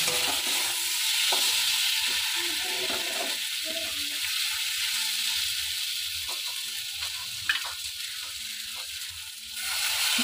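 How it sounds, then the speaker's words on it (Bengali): Spice masala for a rohu fish curry with potato fries in oil, a loud, continuous close sizzle that runs the whole time with faint stirring scrapes and one small clink. "এই যে তেল ছাড়ছে। তো আমি আরও কিছুক্ষণ কষিয়ে নেব।"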